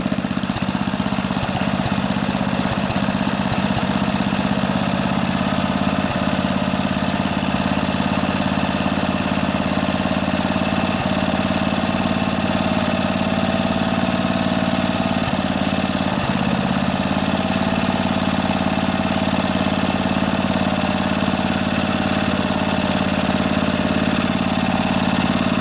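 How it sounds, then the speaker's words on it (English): A rebuilt 8 HP Briggs and Stratton small engine on a riding mower, with a reused head gasket, runs steadily after a carburetor rebuild, giving a constant close, loud mechanical drone with faint knocking. "Reused head gasket and all. Running pretty sweet."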